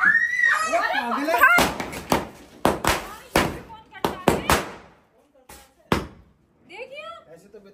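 Firecrackers set off outdoors at a family Govardhan Puja celebration, giving several sharp, loud bangs in an irregular series, with people talking and exclaiming before and between the blasts.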